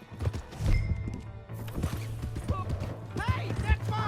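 Horse hooves clip-clop in Red Dead Redemption 2, a steady run of hoof knocks over low ambient game sound, with voices shouting across the clip and a horse whinny breaking through near the end.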